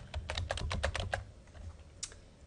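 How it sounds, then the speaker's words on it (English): Quick bursts of keystrokes on a computer keyboard as a word is typed, a cluster of crisp close clicks followed by a few scattered taps. "Now what happens here is I can type a word."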